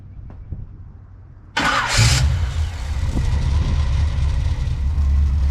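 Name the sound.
engine starting up after rewiring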